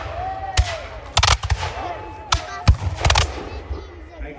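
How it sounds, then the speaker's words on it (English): Re-enactment artillery firing on a hillside at the Battle of Stoney Creek, heard as a string of sharp, loud bangs with echoing tails, some clustered in quick pairs, over a low outdoor rumble. "I can hear the artillery banging away from the hillside."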